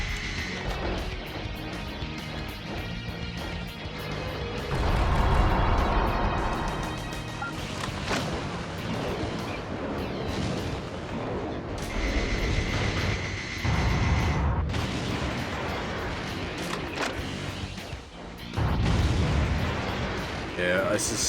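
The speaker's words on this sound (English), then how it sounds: "These are more like shotgun Gatlings." Shotgun Gatling guns fire in the video game Metal Wolf Chaos XD, with heavy rapid booms and blasts over music and a talking voice.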